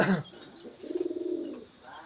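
Pigeons coo in a short, soft, throaty burst, close by, after a brief noise at the start, over a faint steady background hiss.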